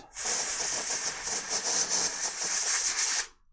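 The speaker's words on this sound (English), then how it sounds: "I'm just going to take my compressed air and I'm going to blow this area out." Compressed air blasts out the link area during weekly printer maintenance, one steady loud hiss lasting about three seconds and then cutting off sharply.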